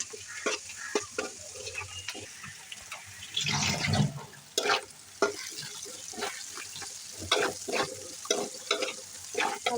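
Shrimp frying in a pan with turmeric and chili powder sizzle softly while a spatula stirs and scrapes in repeated short strokes, with a louder burst of sizzling midway.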